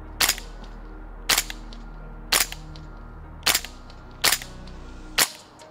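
Six single shots from a G&G MGCR 556 gas blowback airsoft rifle on green gas, evenly spaced about a second apart, each a sharp close crack with a brief mechanical clack, over a low steady background hum.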